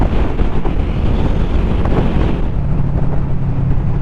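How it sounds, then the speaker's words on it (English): Strong wind roaring over the microphone during a motorcycle ride, a loud continuous buffeting rush that fills the clip with no speech. "It's going to be a windy one today"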